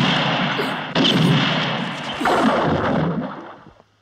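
Two loud gunshot blasts a little over a second apart, each followed by a booming, reverberant tail that slowly fades.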